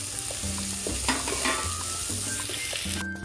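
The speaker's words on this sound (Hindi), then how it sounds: "अभी ऑनियन को अच्छे से फ्राई कर लेंगे।" Onions frying in three to four spoons of oil in a pan for a bhindi masala, a dense continuous sizzle with a low background hum and occasional stirring scrapes, close up.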